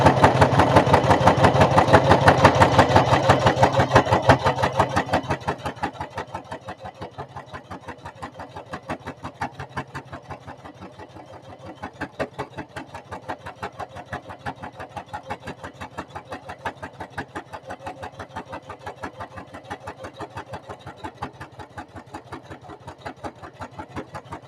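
A sewing machine stitches a zippered bag, starting with a loud, dense hum for about five seconds, then settling into a quieter, rapid even ticking of the needle that runs on to the end.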